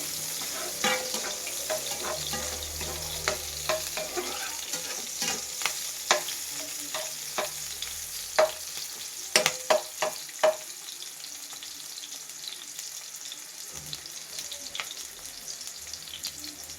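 Two onions sauté in two tablespoons of oil for chilli chicken, a steady close sizzle broken by sharp spoon taps and scrapes against the pan, quieter toward the end, with no voices.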